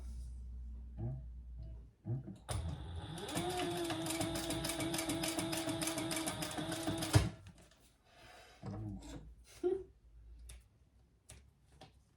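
A sewing machine stitches one more row on a fabric fish pouch, a steady rapid run of about five seconds with a short backstitch burst near the start, bracketed by quieter handling clicks and rustles.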